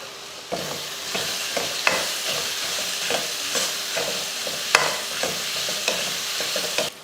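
Shallots, onion and crushed green chillies sautéing in hot oil in a pan, with a steady sizzle and repeated sharp spoon scrapes and taps throughout, heard alone.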